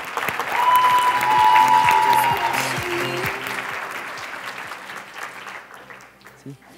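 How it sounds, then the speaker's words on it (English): Audience applause at an exercise-themed talk, a dense burst of clapping that slowly fades, with a short spoken word and some music tones under it. "Let's give them a round of applause."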